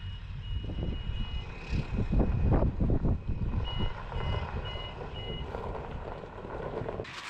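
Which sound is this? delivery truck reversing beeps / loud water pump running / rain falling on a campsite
delivery truck reversing beeps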